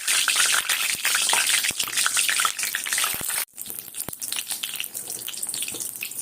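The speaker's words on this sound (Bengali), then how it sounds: "কারি পাতা আর তিল, এগুলো এই ছাঁকনিতে করে ভেজে নেব" Curry leaves and sesame seeds fry in hot oil inside a small strainer for a flattened-rice snack, giving a loud, close, steady sizzle that briefly cuts out, then resumes softer and crackling.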